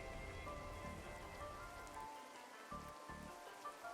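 Rain falls steadily in the video game Darkside Detective 2, a soft continuous patter on surfaces under a faint tonal game backdrop, quiet and even throughout.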